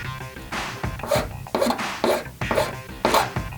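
Blade or file scraping away a plastic tab inside an RC car wheel hub on a Tamiya TT-02 chassis, a series of short rasping strokes in an uneven rhythm, close and fairly loud with brief pauses between cuts.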